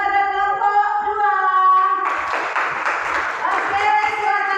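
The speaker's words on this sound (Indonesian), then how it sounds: "beri tepuk tangan kepada kelompok 2" In a classroom, a group claps loudly and steadily for presenting group 2, a dense stretch of applause that begins right after a voice.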